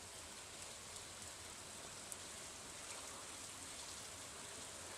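Rain in a video game, a steady, dense hiss of falling drops with no breaks, fairly soft and even throughout.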